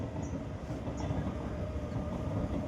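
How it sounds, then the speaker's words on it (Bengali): A train runs along the track right in front of a house, heard from the rooftop as a continuous, close, heavy rumble with a steady rolling roar throughout. "আমাদের এখান দিয়ে ট্রেন কীভাবে যাচ্ছে বাড়ির সামনে দিয়ে"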